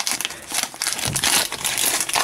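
A foil wrapper of a Born of the Gods trading card pack is crinkled and torn open up close, giving bursts of bright rustling crackle that come and go unevenly.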